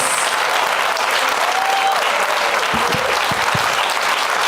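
A studio audience applauds the guests Roy Wood Jr., Ian Bagg and Randy Baumann, dense, loud and sustained clapping throughout, with a few low thumps near the end.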